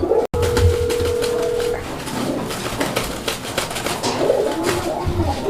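Bombay pigeons at a Bengali pigeon market coo in a low, steady murmur close by, with a constant noisy crowd bustle underneath and a brief dropout near the start.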